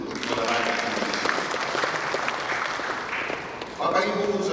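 Applause from an audience at an Indonesian sports ceremony, a loud, dense crowd clapping that holds steady, dips briefly, then swells again near the end.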